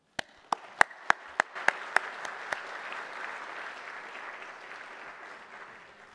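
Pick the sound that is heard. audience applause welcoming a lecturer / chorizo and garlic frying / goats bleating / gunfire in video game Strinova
audience applause welcoming a lecturer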